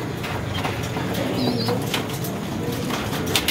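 Racing pigeons from Cavite in a loft, soft cooing and wing rustles over a busy outdoor background, steady and fairly close with no speech.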